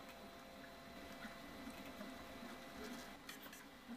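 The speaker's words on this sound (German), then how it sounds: "der Druckauftrag gelingt ohne dass das Filament den Extruder verstopft" An Artillery Sidewinder X2 3D printer with a geared direct-drive extruder runs a print job, giving off a steady low whirring hum of moving motors with faint rhythmic mechanical variation throughout.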